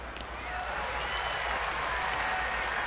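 A baseball stadium crowd applauds with sustained, dense clapping and cheering that holds steady for a few seconds.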